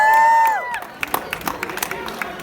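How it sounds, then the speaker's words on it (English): High school students at a walkout event cheer and clap loudly after a voice trails off, a dense crowd roar with scattered claps and whoops close by. "So please cheer for yourself"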